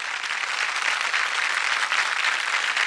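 An audience breaks into applause at a Marathi awards or felicitation event, a dense, steady wash of many hands clapping, loud and sustained with no voices.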